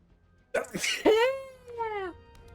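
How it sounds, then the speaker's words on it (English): A single loud sneeze: a sharp burst of breath, then a voiced, drawn-out cry that slides down in pitch before trailing off. "I'm gonna sneeze."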